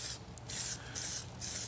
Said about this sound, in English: It's like a spray adhesive, but it's just meant to be tacky.